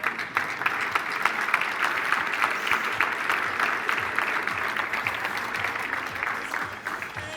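An audience at a security conference bursts into sustained applause after a live IP camera hijacking demo, dense steady clapping from many hands lasting several seconds.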